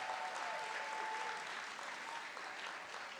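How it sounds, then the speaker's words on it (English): A church congregation applauds steadily as a married couple walks up to the stage, a dense, continuous wash of clapping with no one talking over it. "Keep clapping for them as they come."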